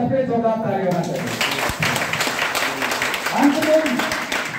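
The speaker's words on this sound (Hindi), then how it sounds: "आनंद लिए, सबके जोरदार ताली होना चाहिए।" An audience bursts into loud, sustained applause, a dense wash of clapping that starts after a brief pause and continues steadily while voices carry on over it.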